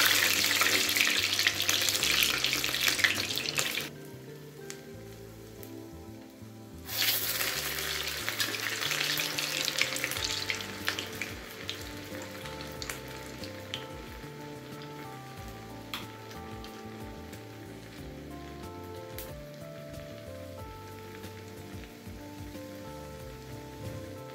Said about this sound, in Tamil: ஆயில் நமக்கு சூடான உடனே நம்ம வடையை போட ஆரம்பிக்கலாம்